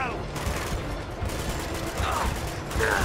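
Submachine-gun bursts in Uncharted 2 rattle through a dense, noisy game mix, with several short clusters of rapid shots, fairly loud and continuous throughout.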